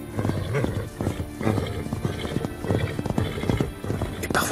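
Wild Pottok horses of the Basque country: irregular hoof clops on the ground, fairly close, followed at the very end by a white stallion's sharp, rising neigh.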